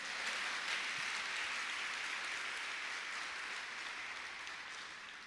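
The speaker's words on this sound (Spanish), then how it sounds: "si le dan aplausos, levántele un aplauso de verdad," Church congregation applauding during a sermon, a soft, steady wash of clapping that slowly tapers off toward the end.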